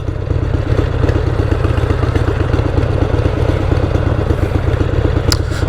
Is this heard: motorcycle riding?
yes